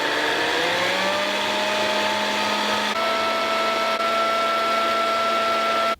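An old electric mixer running steadily after its reset button was pressed, a loud continuous motor whine with tones that rise slightly and then hold as the speed settles.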